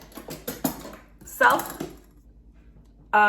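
A sharp Farberware knife cuts through eggplant on a board, giving a few soft chopping knocks and one crisp final cut, while a person talks nearby.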